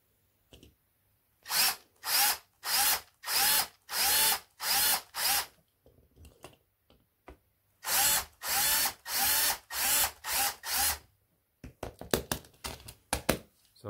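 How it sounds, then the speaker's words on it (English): A small power drill bores out a rivet holding the interior of a diecast Mercedes-Benz 250 model, sounding in a dozen short, even whining bursts with pauses between them, followed by a few quick scraping taps. "I have to drill that rivet as well, which holds the interior in place"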